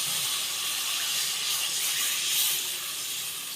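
Water poured into a hot mustard masala in the pan sets off a loud, steady steaming hiss that carries on unbroken, close and alone.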